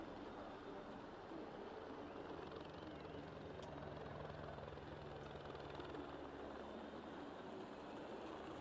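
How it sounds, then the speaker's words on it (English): Helicopters from the racing game Automobilista 2 drone steadily above a pre-race scene, a constant low rotor thrum under a faint crowd bed, continuous and moderately distant, with no talking. "The helicopters buzzing around."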